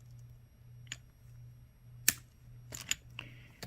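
Sharp scissors snip thread while earrings are being made, a few quiet, separate clicks and cuts up close over a low steady hum.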